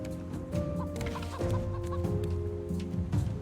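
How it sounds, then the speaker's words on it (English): Chickens in the survival video game Raft cluck and squawk in a busy, repeated stream, fairly close and with no talking. "Chicken."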